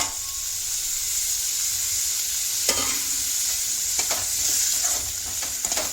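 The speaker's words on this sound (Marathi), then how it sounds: "आता हलवून घेते हे टमाटर पण टाकून देते" Tomatoes and onion frying in a pan give a continuous bright sizzle, with occasional spatula knocks and stirring scrapes close by and no voices.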